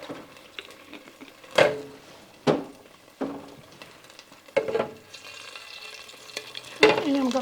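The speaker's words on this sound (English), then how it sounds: "and I'm going to saute my onion." Onion sautéing in about a tablespoon of olive oil in a pan, a soft steady sizzle broken by several sharp scrapes and stirs of a utensil against the pan, close and clear.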